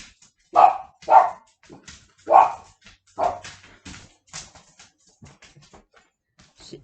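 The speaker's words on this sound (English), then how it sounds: "The little dog then gets the big dog going. And the big dog's bark is big." A small wiener dog and a big 100-pound dog barking indoors, a few loud close barks in an irregular burst followed by fainter scattered yips and whimpers, without talking.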